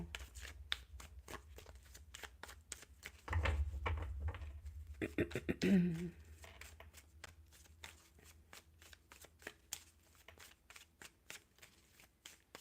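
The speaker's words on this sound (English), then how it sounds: "So let's shuffle a little bit more." Tarot cards being shuffled by hand in quick, crisp riffling bursts that repeat steadily, with a louder, denser flurry partway through and no talking.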